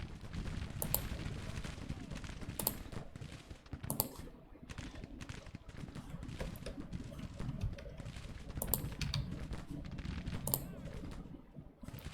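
Musket gunfire in a Civil War battle game, scattered sharp reports crackling irregularly from near and far over a dense low rumble of battle noise.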